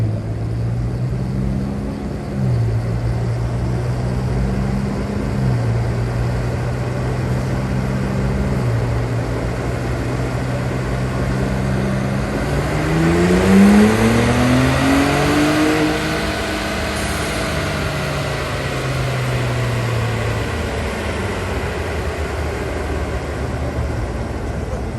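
A Ford GT350 engine tuned to about 1,100 horsepower, strapped to a dyno and revving hard through the gears, a loud sustained roar with pitch steps and a rising sweep in the middle before settling back.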